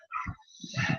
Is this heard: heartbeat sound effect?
no